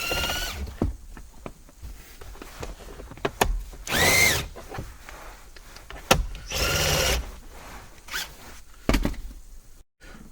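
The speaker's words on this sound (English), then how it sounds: "we're going to remove the Phillips screw right here that's under the tilt lever" A Phillips screw is removed from under the tilt lever on the plastic steering column of a 2005-2010 Honda Odyssey. Two short, sharp whirring bursts rise out of close clicks and handling noise.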